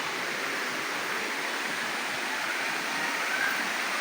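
Steady broadband rush of water pouring down Libtong Falls, a continuous dense roar heard close and alone with no voices over it.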